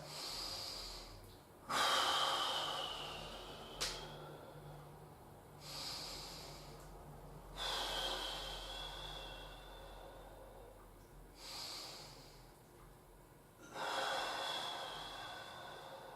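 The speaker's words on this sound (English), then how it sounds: "So in this position, we're just going to do a few deep breaths." Deep, slow breaths during a relaxing stretching exercise: five or six long audible inhales and exhales, each a few seconds apart with quiet pauses between, close and fairly soft, with no talking.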